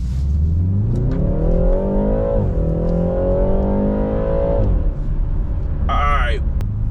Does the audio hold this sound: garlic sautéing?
no